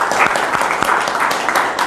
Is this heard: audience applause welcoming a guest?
yes